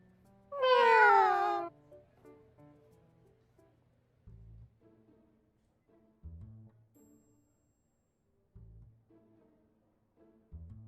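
A single loud, drawn-out cat meow from the video game Love and Deepspace rings out near the start, followed by quiet, sparse low thumps and soft electronic tones.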